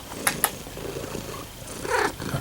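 A cat lying on its back purrs close up indoors, a soft continuous rumble with a couple of small sharp sounds near the start and no talking.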